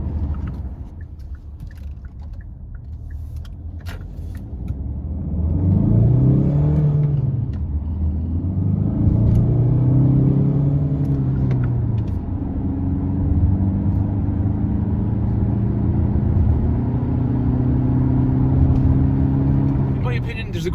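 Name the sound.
Kia Sportage 1.7 diesel engine accelerating onto motorway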